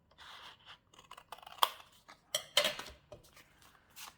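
Scissors cut through cardboard for a small Easter frame, giving a run of crisp snips and crunches with short pauses between them, close and fairly loud, with no talk.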